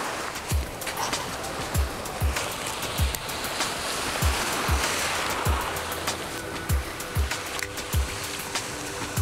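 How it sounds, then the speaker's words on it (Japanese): Small surf breaking at the water's edge of a sandy beach on Niijima island, Tokyo, with a steady outdoor wash and repeated low thumps and splashes at irregular intervals close by. "本当波打ち際ですね。"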